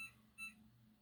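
A digital timer being set while cooking venison Philly steak gives two short, faint, high beeps a fraction of a second apart over a low background hum.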